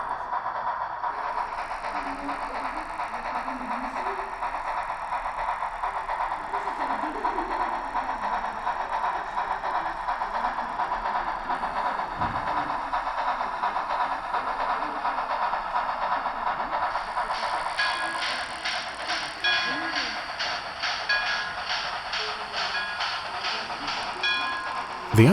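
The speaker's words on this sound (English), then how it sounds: "you'll enjoy listening to the sound of the locomotive nonetheless" A Märklin/Trix H0 scale model of a Shay steam locomotive runs steadily with a continuous hissing steam sound and a soft mechanical whir, joined later by fast, regular clicking chuffs.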